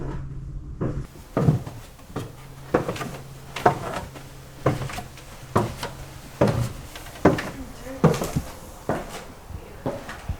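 Knocking recreated on wood inside a haunted old house, a series of hollow wooden thumps and knocks at roughly regular intervals, fairly close and distinct against a quiet room.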